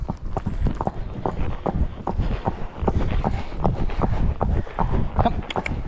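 Hooves of a ridden Shire horse clip-clop at a steady walking pace, close and clear, the rhythmic footfalls continuing throughout with light wind noise in the background.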